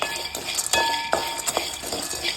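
Raw peanuts roast in a pan and are stirred, with close, irregular scraping and clinking of a spoon against metal over a faint background hiss.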